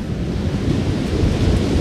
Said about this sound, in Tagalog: Medyo malakas pa rin dito sa amin yung ano, ulan